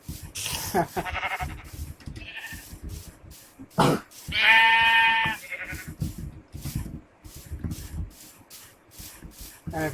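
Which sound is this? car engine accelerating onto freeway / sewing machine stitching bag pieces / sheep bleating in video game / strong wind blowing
sheep bleating in video game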